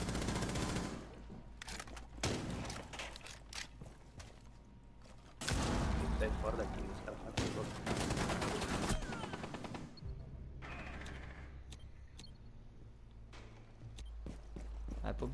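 Rapid gunfire in a Rainbow Six Siege match, with dense bursts and single shots cracking loudly throughout, a heavy sustained volley in the middle, and players talking over the action.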